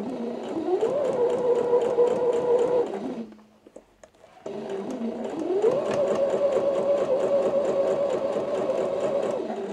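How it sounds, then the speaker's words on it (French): A sewing machine running a long basting stitch along a seam, a close steady whirring drone that winds up, holds, stops for about a second, then starts again and runs on. "je vais venir refaire un faux fil à la machine à coudre"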